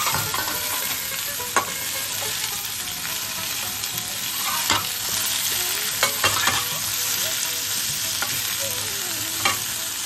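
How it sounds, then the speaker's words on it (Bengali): Fried vegetables being stirred together in a pan for a Bengali dish, a continuous hissing fry with scattered sharp spatula knocks and scrapes, close and without talk. "এবার আমি ভেজে রাখা সবজিগুলো মিলিয়ে দিই।"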